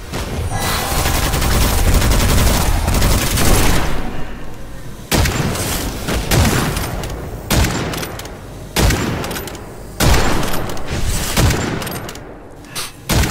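Rapid gunfire from the PC video game Witchfire rattles loudly in dense bursts, then breaks into separate heavy shots and booms with short pauses between them.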